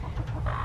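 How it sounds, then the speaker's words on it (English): Broody hens give a short burst of low, throaty clucking, close by and fairly loud, lasting well under a second with no talk. "Guys, I can't believe I have 3 more broody hens."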